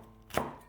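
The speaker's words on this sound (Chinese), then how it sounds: "先切成细丝，" A single crisp knife chop through a seeded green pepper on a cutting board, close and short, with no talking.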